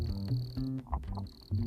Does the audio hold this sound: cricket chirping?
yes